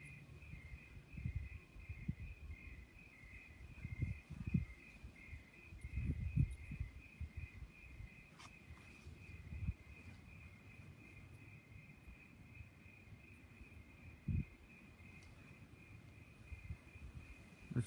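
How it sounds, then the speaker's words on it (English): Crickets chirp in the daytime in a backyard by a little creek and greenway in Turner, a steady, faint pulsing trill running throughout beneath intermittent low rumbles and rustling. "just listen to the crickets."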